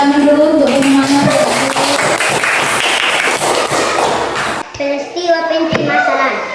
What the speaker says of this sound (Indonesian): Tepuk tangan dulu untuk semangat.